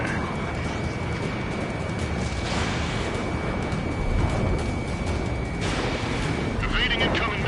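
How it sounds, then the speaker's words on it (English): Missile launches and explosions in the combat flight game Ace Combat 7 rumble as a dense, continuous roar, with louder bursts around the middle and end, a steady alarm tone and radio voices over the top. "Warning, missile! Missile in the air!"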